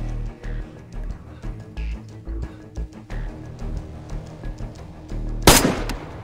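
A sniper rifle fires once in the video game DayZ, set on a winter map. It is a single sharp, loud crack near the end, over a steady low background rumble.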